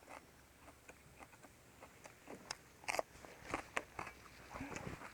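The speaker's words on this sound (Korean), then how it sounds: "고추 딴거 먹어보자" Someone bites into a freshly picked chili pepper at a seaside campsite on Jindo's Geumgap beach, making close, crisp crunches followed by wet chewing that grows louder toward the end, with no talking.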